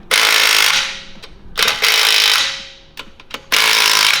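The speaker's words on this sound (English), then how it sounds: "it's time to use your rattle gun" Rattle gun hammering bolts tight on a Hyundai Getz during a washer motor replacement: three loud buzzing bursts of rapid impacts, separated by short pauses and a few sharp clicks.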